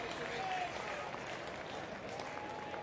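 Cricket fans at a Test match between New Zealand and West Indies applaud a driven boundary, sustained crowd clapping and cheering heard at a distance beneath a commentator's voice.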